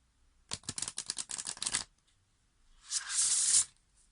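Tarot cards are shuffled at close range, first in a quick run of crisp riffling flicks, then after a short pause in a single longer hissing riffle.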